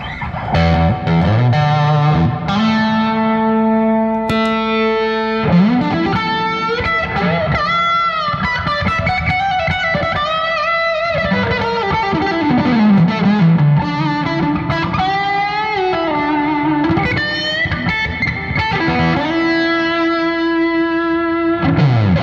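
An electric guitar through a Gjika Mini Amp with EL84 power tube distortion plays a lead line with heavy distortion and a spacious reverb tail, sustained notes and bends ringing out continuously, with no talking.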